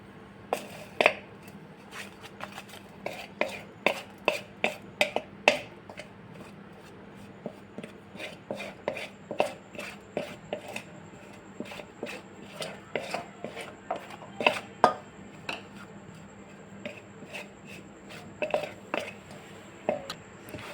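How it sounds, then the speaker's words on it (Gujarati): Repeated soft tapping and scraping of a spoon against a bowl while stirring gram flour with a teaspoon of ghee, irregular but steady, close up with faint room noise between strokes. "હવે આપણે બધું જ મિક્સ કરી દઈશું"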